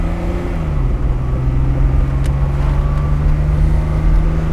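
A classic Mercedes W111 Cabriolet drives along with a loud, steady engine drone and wind rush, the engine note dropping in pitch early on and then holding even.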